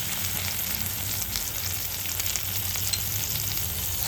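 Chili-garlic paste and turmeric frying in a pan for a Khandeshi ridge gourd bharit, producing a soft, even sizzle that holds steady without any voices.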